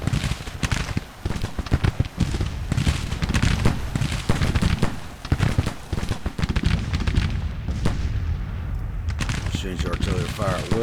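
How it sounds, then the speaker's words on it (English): Cannon blasts and volleys of massed musket fire echo across a battlefield in a Civil War strategy game. Dense rolling booms and crackling shots overlap continuously, with voices under the battle din. "Change your artillery fire at will."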